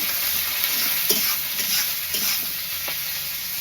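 Onions fry in a pan for chicken kosha, with a steady loud hiss of hot oil and occasional soft stirring scrapes, heard close up with no talking.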